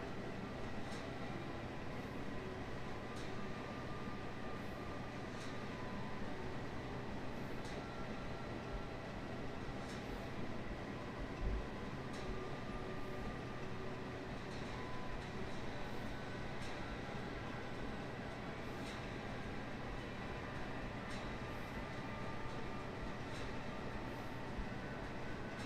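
A long train hauled by three or four locomotives rumbles past at a distance, a steady low drone with faint clanks, quiet and continuous, no voices.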